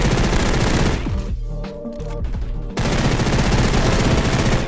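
Rapid automatic fire from a diamond MP7 in the Roblox game Energy Assault, loud continuous bursts that pause briefly in the middle, then resume at full volume.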